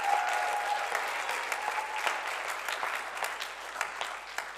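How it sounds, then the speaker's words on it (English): A church congregation applauding during a Sunday service, a full, sustained round of clapping from many people that holds steady and then slowly thins. "Can we give her a round of applause?"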